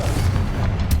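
The Confringo fire spell explodes in the PS5 game Hogwarts Legacy, giving a short burst of deep, rumbling booms that stay loud and close throughout.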